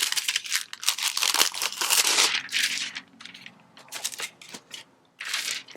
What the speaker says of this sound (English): So when you're taking out your foils, make sure it's one.